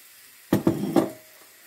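Pieces of meat laid into a hot tagine, three quick close thuds each bursting into a sizzle that fades within about a second.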